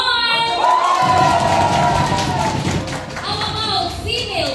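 At a Christmas party, a crowd cheers and shouts loudly for a best dress nominee, with children's shouts and scattered claps mixed into the sustained roar, while a host's voice carries over it.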